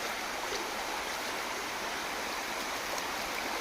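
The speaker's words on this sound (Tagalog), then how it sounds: "meron ditong sapa na" A shallow stream flows in a steady, even rush of water, continuous and unbroken, fairly soft and close by.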